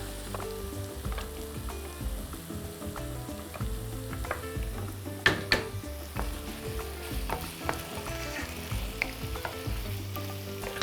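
Cut potatoes and other soup ingredients frying in a pan, a continuous close sizzle with scattered pops and stirring scrapes, no talking.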